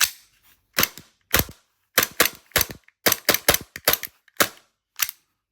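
Tokyo Marui G19 gas airsoft pistol with a 5ku slide fired in about fifteen sharp, snappy cracks, singly and in quick bursts, close and loud with short gaps between.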